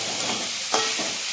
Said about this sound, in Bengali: ভালো করে ভাজার পর এঁচড়টাকে মা দিয়ে নিল।